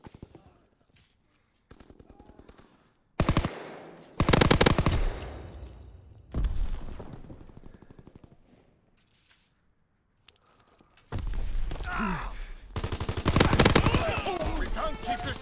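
Gunfire in the World War II shooter Call of Duty WW2, with loud bursts of rapid automatic fire and single shots separated by quiet gaps, alongside other battle noise and no speech.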